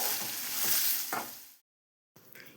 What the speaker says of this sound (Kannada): ಕರಿಬೇವಿನ ಸೊಪ್ಪು, ರುಚಿಗೆ ತಕ್ಕಷ್ಟು ಉಪ್ಪು ಹಾಕಿ 2 ನಿಮಿಷ ಫ್ರೈ ಮಾಡ್ಕೊಳ್ಳಿ